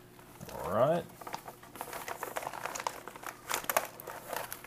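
Plastic MRE ration pouch from a 2014 U.S. military Menu 2, shredded beef in barbecue sauce, being cut and pulled open, with close crinkling and rustling bursts, a brief tearing sweep near the start, and intermittent handling noises.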